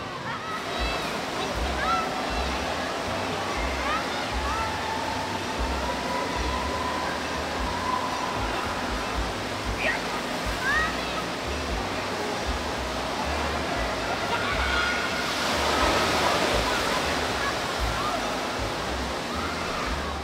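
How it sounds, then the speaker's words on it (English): Water rushing down a small kids' water slide at Island Waterpark in Showboat, Atlantic City: a constant broadband splash and roar filling the space, with a brief brighter surge near the end. "here we have what looks like a more kiddie-ish type of little water slide here."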